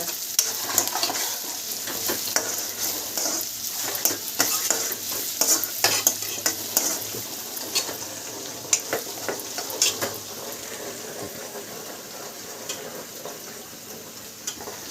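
Ground masala frying in a pan while being stirred, with continuous close sizzling crackle and repeated scraping and clinking strokes of a spoon against the metal, steady throughout and no voices.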